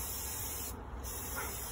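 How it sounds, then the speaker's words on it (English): Spray paint hisses in a steady, continuous burst from a can while coating a tumbler cup outdoors on a front porch, with a brief dip in the middle of the spray. "I'm just gonna spray paint and get good coverage over the entire cup"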